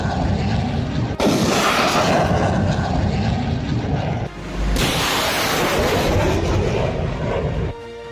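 Heavy artillery guns boom during an Indo-US military exercise in desert sand, with loud, sustained roaring blasts and rumbling reverberation filling the air, one burst following another with brief lulls between.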